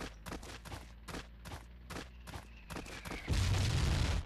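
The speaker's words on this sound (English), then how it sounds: "Oh, tank is shooting now." Tank cannon and gunfire in a first-person World War-era battle game on a market map, with repeated sharp shots in a fast irregular rhythm, closing on a heavier, sustained roar of fire.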